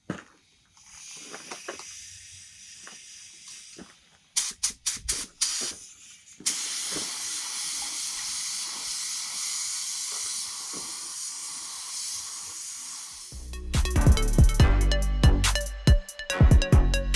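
Spray gun bursts hiss steadily as primer goes onto a Foxbody front bumper cover, with short starts and stops, then a longer continuous spray and some clattering handling noise toward the end.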